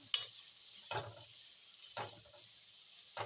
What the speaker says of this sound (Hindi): इसको हम ऑयल में शामिल करेंगे और हम इसको गोल्डन फ्राई करेंगे